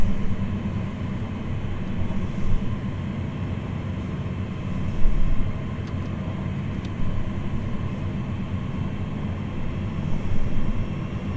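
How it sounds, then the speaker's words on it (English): A heavy cargo train in the Train Sim World 2020 video game gives off a loud, steady low rumble and engine drone, with small swells in level and a few faint high clicks. "There's the train."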